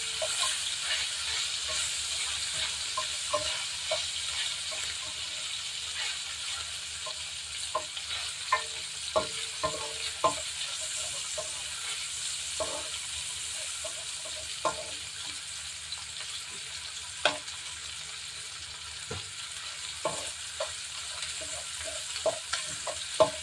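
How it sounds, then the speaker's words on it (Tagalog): Garlic and ginger sautéing in a pan for pinakbet, a soft continuous sizzle with scattered clicks and scrapes of stirring throughout, fairly quiet and close, no talking. "Igigisa ko muna yung bawang at saka luya"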